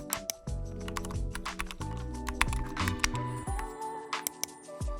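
Typing on a computer keyboard, close and distinct keystrokes in quick irregular bursts, with an underlying background tone, no talk.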